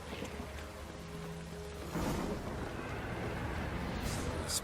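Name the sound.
rain in the video game The Witcher 3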